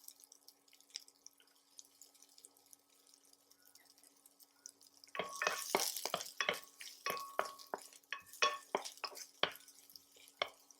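Quiet at first, then garlic starts sizzling in a hot pan, with crackling pops and stirring scrapes close by.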